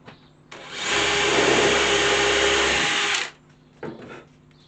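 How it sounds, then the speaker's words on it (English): A power drill with a countersink bit bores into wood for dowels, a loud steady whir lasting about three seconds before winding down, followed by a brief second burst. "I'm using the countersink"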